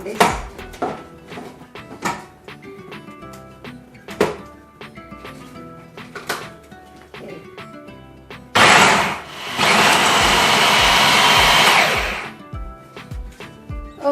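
A food processor grinds falafel ingredients with salt, a loud, steady whirring burst lasting a few seconds that comes after scattered kitchen clatter and knocks.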